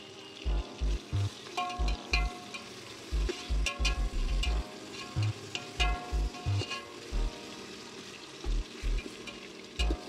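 Biryani masala sautéing in a pot, a continuous sizzle under a rhythmic series of low thumps from steady stirring, repeated many times at an even pace with brief pauses.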